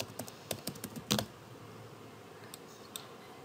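Quick clicks of typing on a computer keyboard during coding, a short burst of close keystrokes followed by a few isolated taps in a quiet room.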